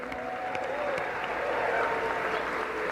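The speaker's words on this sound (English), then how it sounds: "Some more round of applause for our Fiwi Dance Group." A round of applause for a dance group at the Ontario Parasport Games opening ceremony, a steady, even wash of clapping from a large audience filling the hall without pause.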